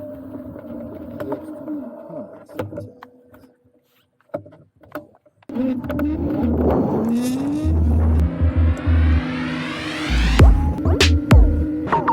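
An electric mountain bike's motor spins up into a rising whine that climbs in pitch, mixed with rattling, wind and ground noise as the ride begins.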